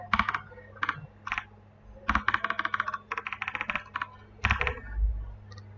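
Rapid keyboard typing in uneven bursts of crisp key clicks, close up, with short pauses between runs and no talking.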